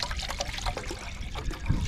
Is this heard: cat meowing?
no